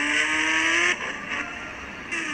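A motorbike spawned in a video game revs loudly with a high, buzzing engine whine that cuts off sharply, then returns more quietly with bursts of acceleration.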